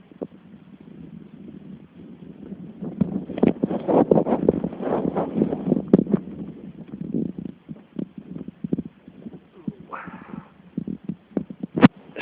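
Wind gusting around a van's open engine bay during radiator and reservoir work, a broad rumbling buffet that swells through the middle, with scattered knocks and clicks and a brief higher squeak near the end.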